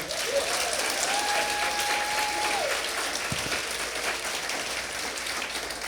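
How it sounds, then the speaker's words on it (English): An audience at a storytelling festival applauds piano player Sean Labita with sustained, even clapping from a full room, a faint tonal whistle briefly audible over it. "Let's give a round of applause for Sean Labita."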